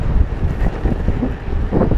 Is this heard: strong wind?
yes